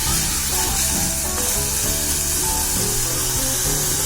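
Vegetables sizzle in hot oil in a pan, a dense, steady frying hiss that stays loud and continuous throughout with faint scraping underneath.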